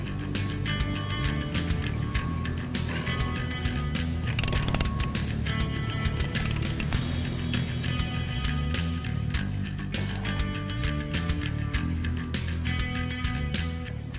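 A ratchet clicks rapidly and repeatedly while tightening the retaining nut on a 1965–1966 Mustang front disc brake conversion, with close metallic pawl ticks in bursts and brief pauses between strokes.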